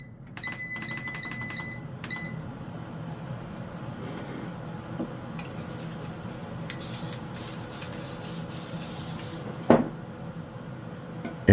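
Cooking oil spray hissing onto chicken wings for an air fryer, several steady broadband bursts from about seven to nine seconds following some faint clicks and handling, ending with a sharp knock.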